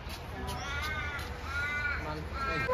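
A parrot at Perth Zoo gives harsh, raspy squawking calls, several rough cries over soft background voices and faint ambient noise.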